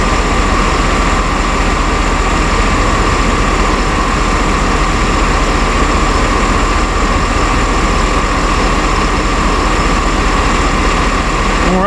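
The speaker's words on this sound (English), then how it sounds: "And we're only doing this at idle." A 2010 Chevy Suburban engine idles during an A/C system recharge, a loud, steady low rumble with a constant mechanical hum and no change in pace across the whole stretch.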